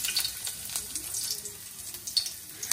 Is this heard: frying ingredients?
yes